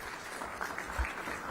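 An audience at an aerospace conference in Visakhapatnam claps, giving a faint, steady wash of applause with a brief louder swell partway through.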